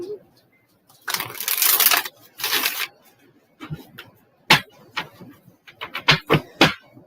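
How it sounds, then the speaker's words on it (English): Tarot cards being shuffled by hand in bursts of riffling and soft taps, close and clear, with pauses between bouts and a voice speaking quietly. "One more shuffle for you, my darling."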